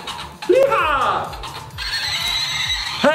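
A Ponycycle toy horse plays a recorded horse neigh, a loud rising whinny that falls away, then a long high shaky tail, close and clear with small clicks underneath.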